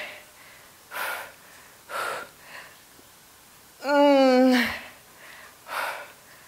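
Heavy, effortful breaths during a quad and shoulder superset workout: a few sharp exhales and inhales spaced about a second apart, with one long strained, voiced gasp in the middle, close to the microphone.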